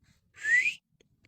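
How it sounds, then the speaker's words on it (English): A single rising whistle at night in the woods, one clear tone lasting about half a second, moderately distant and alone against quiet surroundings. "I just heard whistling"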